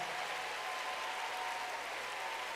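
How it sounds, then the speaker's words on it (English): A church congregation claps during a sermon, a steady, even wash of applause that is fairly faint and unbroken throughout, with no speech over it. "I need you to clap"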